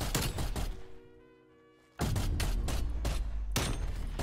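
Loud, close bursts of rapid gunfire in a Call of Duty Cold War Search and Destroy match, with a brief lull in the middle before the firing picks up again.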